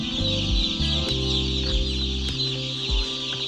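Chickens on a poultry farm cluck and chatter steadily up close, a dense continuous flock sound with occasional sharper calls over a low hum.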